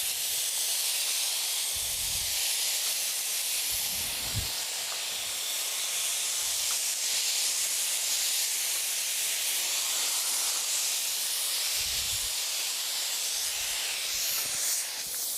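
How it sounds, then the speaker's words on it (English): Silicone sprayed from a pressurized pump sprayer while building a silicone bag gives a steady, close, continuous hiss throughout, with a few low thumps from the pump in between. "And now what I'm doing, I'm spraying the silicone."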